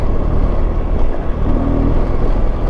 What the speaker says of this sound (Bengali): এই রাস্তা দিয়ে আরামসে বাইক চালানো যাচ্ছে